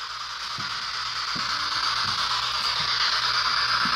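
A ghost box device hisses with steady, loud white noise static, a broad continuous wash punctuated by faint periodic clicks as it sweeps, with no talking over it.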